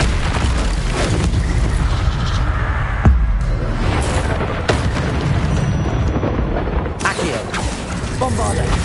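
Hogwarts Legacy game combat, with the Bombarda explosion spell booming in loud, dense blasts among a constant stream of spell effects, with a sharp impact near the middle and a voice talking in places.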